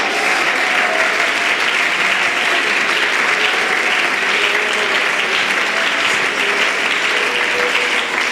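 Church congregation at a Sunday school service applauding to the glory of God, a loud, sustained roar of clapping from many people that stays constant throughout, with faint voices mixed in.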